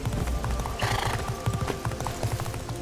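A horse in the video game Castlevania Lords of Shadow gallops with rapid rhythmic clip-clop hoofbeats while a loud whinny rises in the middle, close and dense over a game soundscape.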